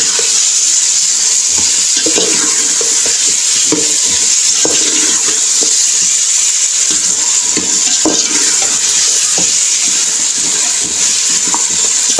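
Half a kilo of potatoes being fried in a pan, a steady loud sizzle running throughout with repeated scraping stirs and spoon knocks, no talking.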